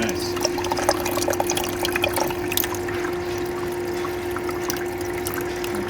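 Water trickles and gurgles as an Igloo ICEB26HNAQ countertop ice machine fills through its float valve, a steady close splashing wash over a constant motor hum.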